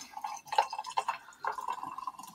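A 7.5 ounce Sprite soda pours over vodka and ice in a glass, giving close, bubbly trickling and splashing with fizzy dripping in short uneven spurts.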